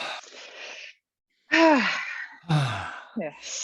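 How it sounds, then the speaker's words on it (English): A person inhales deeply and exhales in long sighing breaths, several times with short pauses, close and clear, with soft vocal sounds mixed in. "So take a big breath and yes."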